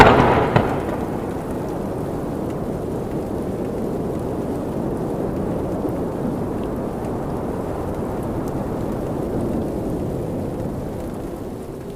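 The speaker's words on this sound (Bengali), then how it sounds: "হঠাৎ চারিদিক অন্ধকার করে আসলো, আর খুব জোরে বাতাস বইতে শুরু করলো।" A cartoon storm with strong wind, thunder and rain tears through mango and banana trees: a sharp thunder crack opens, then a loud, steady roar of wind and rain carries on without pause.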